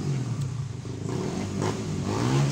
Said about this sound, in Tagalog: Saba-saba sa motor.